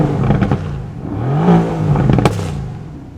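The 4-liter bi-turbo V8 of a 2020 Mercedes-AMG GT R Roadster barks through a loud, close blip, rising to a brief rev peak and dropping back with crackling exhaust pops near the end.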